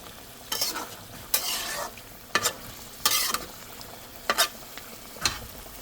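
Meat being stirred and sautéed in a frying pan, with a low sizzle running underneath and about six sharp, scraping bursts from the spoon against the pan at irregular intervals, close and alone without talk.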